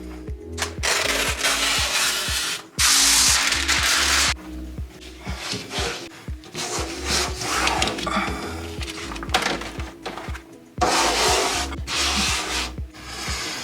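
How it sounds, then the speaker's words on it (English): Adhesive backing being peeled and rubbed off window film, giving repeated rough scraping and rasping strokes, close and fairly loud, in an uneven rhythm with short pauses. "There is a little bit of an adhesive, and they're gonna have me take and peel it off"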